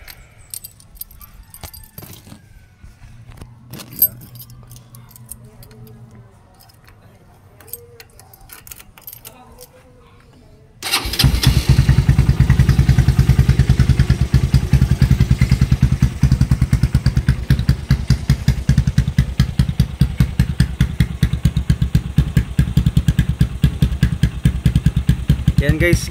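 A Honda Supremo 200cc motorcycle with a kalkal exhaust pipe and ORBR muffler rattles with faint keys and handling noises, then fires up into a loud, deep, bassy idle that throbs steadily close by.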